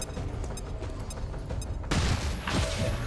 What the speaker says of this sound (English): That is a pretty good flashbang